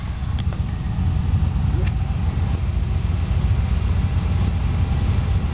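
A car engine idles steadily at close range during an ECU wiring harness check, a low continuous rumble with faint clicks and a slight shift in tone.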